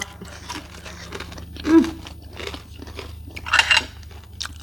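Crispy pork belly (moo krob) is bitten and chewed up close, giving a few crunchy bites and crackles between quieter chewing, faint low hum beneath.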